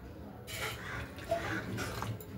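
Water is poured into flour to mix a batter, giving faint splashing bursts and soft liquid sloshing in short spurts.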